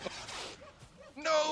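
A tamed wolf in the Valheim video game gives short yipping barks and whimpers close by, mixed in with game noise and a person talking over it.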